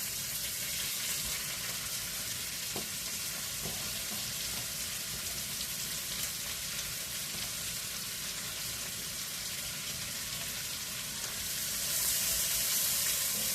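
Cabbage and carrots frying in a pan while being stirred, a steady loud sizzle with faint scraping, swelling slightly louder near the end.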